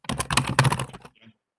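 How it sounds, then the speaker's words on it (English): Rapid clicking keystrokes on a computer keyboard picked up by an open microphone during a live-streamed health board meeting, a dense close burst of typing that stops abruptly, followed by a faint brief tap. "someone has got their mic on, it would appear, because I can keep hearing typing"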